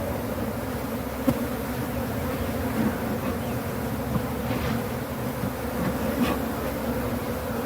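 Honey bees from a defensive hive buzz steadily in a dense, continuous swarm close by, an unbroken droning hum with no voices.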